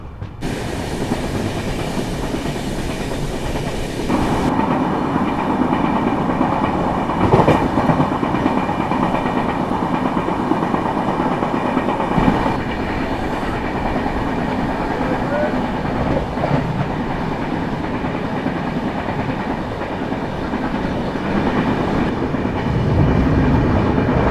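A Kerala Sampark Kranti Express train rumbles along the Konkan Railway with a steady clickety-clack, a continuous loud rolling noise heard from inside a carriage.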